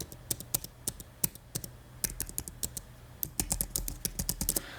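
Rapid, uneven typing on an Apple Magic Keyboard, with crisp, light key clicks in bursts and short pauses, close to the microphone.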